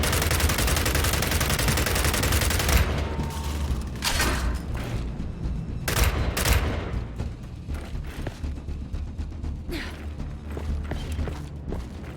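Mounted turret gunfire in a Gears of War video game battle: dense, continuous bursts of automatic fire with sharp booming impacts, loud and close, with no speech.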